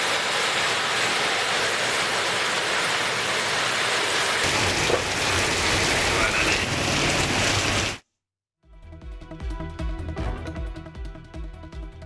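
Heavy early-morning rain pours in a steady, dense hiss for about eight seconds, then cuts out briefly before a different, choppier stretch of rainfall resumes. No voices are heard.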